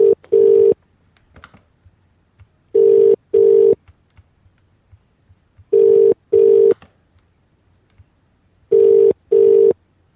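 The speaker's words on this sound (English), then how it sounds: "I'm going to try and phone George Galloway on Press TV tonight" Telephone touch tones sound in loud, evenly spaced pairs of steady beeps, four pairs across the span, with faint clicks and quiet tapping between them.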